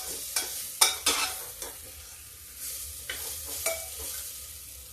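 Beans and peas being fried and stirred in a pan for mung dal, a quiet sizzle punctuated by several sharp scraping stirs and clinks of a spoon against the pan, with no voices.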